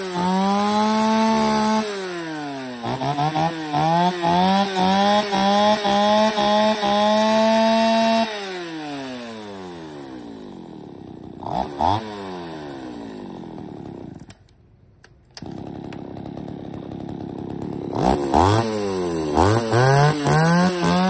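A Japanese-market chainsaw cuts firewood, its two-stroke engine revving up and down in repeated bursts, then idling and sputtering between cuts before revving hard again, close and loud.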